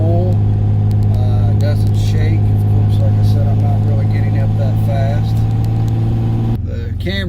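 A car engine hums steadily during a test drive, a loud, constant low drone from inside the cabin that drops as the driver shifts up to third gear, with someone talking over it.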